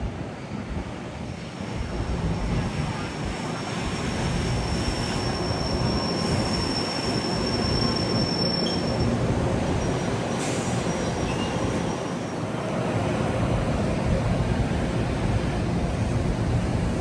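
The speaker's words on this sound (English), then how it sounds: "Coming in at 6:05 is train 559 for North White Plains." Metro-North commuter train 559 made of M3 electric cars pulls into a station with a loud, steady rolling rumble and a faint high wheel squeal running throughout, no voices.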